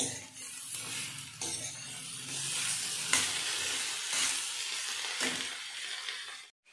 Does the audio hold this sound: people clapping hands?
no